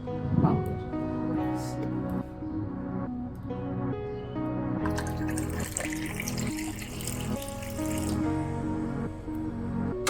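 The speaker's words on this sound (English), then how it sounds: "pour it straight into our tumbler." Hot milk poured into a tumbler while making South Indian filter coffee, a continuous liquid stream and splashing that grows brighter as the tumbler fills, close by under faint background noise.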